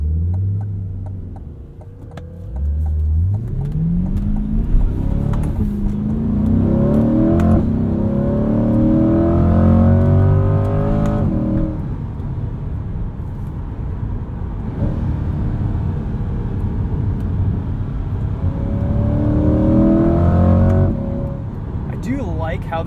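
A 2020 Chevrolet Corvette Stingray C8 V8 engine revs up and down repeatedly in sport mode with manual shifting, rising in pitch through gear changes, loud and close, with brief speech underneath.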